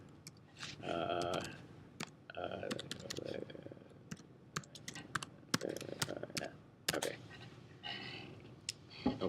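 Bursts of typing and clicking on a computer keyboard while entering a password during a remote terminal login, keystrokes scattered through the clip under and between a man's rambling speech.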